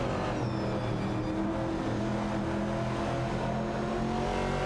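Ford Falcon and Dodge Challenger race cars in a video game race, their engines droning and revving steadily and loud, with layered motor tones overlapping throughout.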